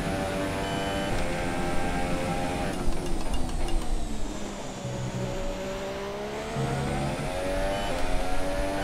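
A Haas Formula 1 car in F1 2017 at the Malaysian Grand Prix, its engine whining loudly as it climbs through the revs, with pitch sweeps across gear changes and a brief dip and recovery, steady and close.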